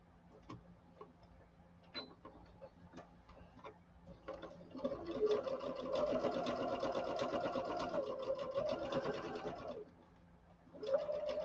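A sewing machine runs a steady stretch of stitching for about five seconds as it tacks down a layer of broadcloth over seams, framed by scattered quieter ticks and clicks before and after.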